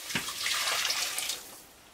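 Tap water pours steadily into a pot for homemade mushroom soup of about a litre and a half, a close, hissing splash lasting around a second and a half before it tails off.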